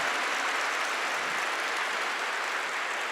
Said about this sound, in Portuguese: Vamos bater palmas para o Padre Marlon.